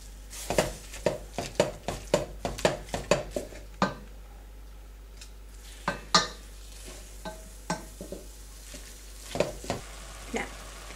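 Ground beef browns in a pan while a utensil stirs and scrapes it, giving a string of sharp clicks and knocks over a soft, low sizzle, with a few quiet gaps between the strokes.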